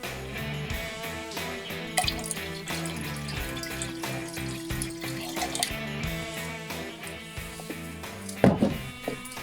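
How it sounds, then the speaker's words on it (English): Cold water pours into a Mr. Beer craft beer brewing keg, making a steady splashing, gurgling stream with dripping and a louder splash near the end, close and clear with no talk. "So I'm gonna add some more cold water now"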